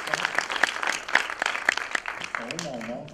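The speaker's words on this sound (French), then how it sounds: "Est-ce que vous pouvez les applaudir, Jessica et Stéphanie, qui ont vraiment travaillé fort?" Church audience applauding, with sharp claps rising above a steady wash of clapping, then a voice begins speaking as the clapping carries on.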